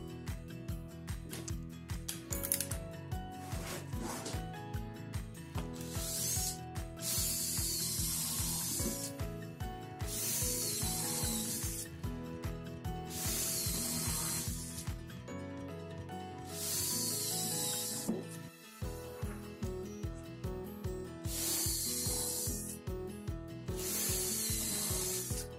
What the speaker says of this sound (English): Okay, time to pre-drill.